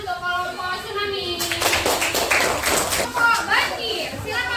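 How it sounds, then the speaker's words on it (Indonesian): Fifth-grade children clapping in an elementary classroom for a group, a burst of many quick, uneven hand claps after someone speaks, with children's voices around it. "kita kasih tepuk tangan untuk kelompok tsunami"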